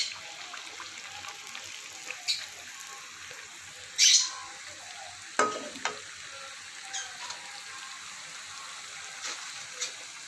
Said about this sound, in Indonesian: Sesi terakhir untuk penggorengan rempeyek ala 3 Srikandi.